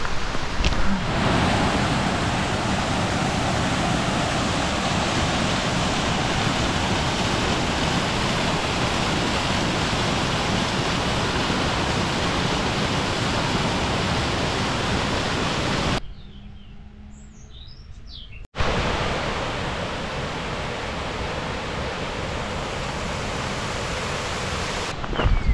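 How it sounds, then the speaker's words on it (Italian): A waterfall near Pale in Umbria, Italy, roars in a constant broad rush of water, loud and steady, cutting out briefly near the end before resuming. "Si sente già l'acqua delle cascate."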